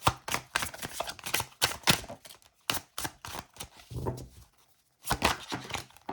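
Tarot cards being shuffled by hand, giving a rapid run of crisp, papery riffling bursts in uneven clusters, with a brief pause before a final flurry.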